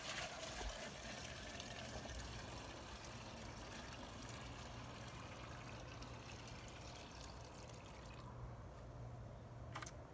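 Compost tea being poured from a bucket into a watering can, a faint continuous stream of splashing liquid running steadily throughout.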